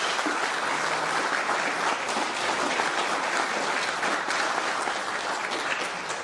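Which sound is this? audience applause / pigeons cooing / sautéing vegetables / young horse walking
audience applause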